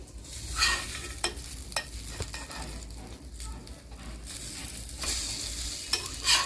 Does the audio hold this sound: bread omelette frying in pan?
yes